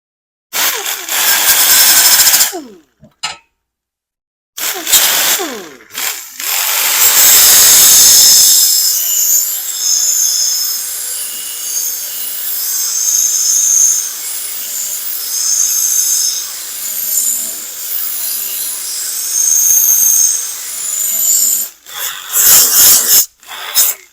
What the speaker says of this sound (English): That's a 36 grit roll lock, so it takes it off pretty quick.